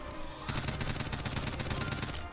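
Rapid video-game gunfire from a Roblox zombie school survival game: loud, dense automatic bursts that run almost continuously for about two seconds after a brief quieter lead-in, with no talking over them.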